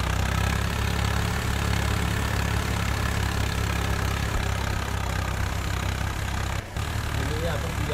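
A Swaraj tractor's diesel engine idles steadily nearby, a loud, unbroken low rumble with a brief dip near the end.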